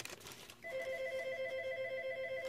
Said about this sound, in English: Just in time, too, because our phone's ringing.